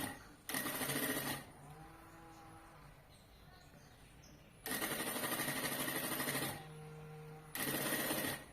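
A sewing machine stitches a backpack in three loud, close bursts of rapid mechanical clatter, separated by quieter pauses with faint handling noise.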